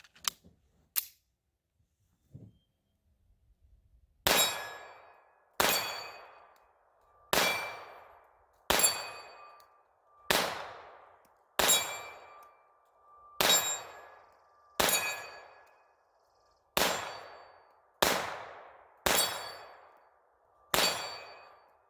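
A Beretta 81 pistol fires about twelve evenly spaced shots, each crack followed by a ringing clang from steel targets, with a couple of quieter early pops before the steady string.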